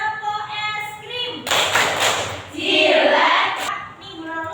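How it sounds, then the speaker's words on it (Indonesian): A school class does a rhythmic ice cream clapping game, with bursts of many hands clapping together between stretches of spoken and chanted voices, loud and close in a classroom. "Ustazah punya tepuk yang namanya tepuk es krim"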